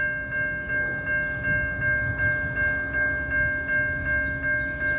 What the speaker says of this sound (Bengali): এখন একটি ট্রেন যাবে রেল ক্রসিং রোড দিয়ে